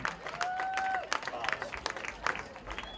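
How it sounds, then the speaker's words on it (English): Crowd at a Stampede Soccer Academy match applauding its players, a steady spread of clapping with scattered whistles and voices, moderately loud and fairly close. "give a big round of applause for these guys"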